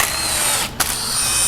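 A power tool whirs steadily as it backs out 10 mm transmission pan bolts on a Cadillac CTS4, with one brief pause and a small knock partway through, loud and close.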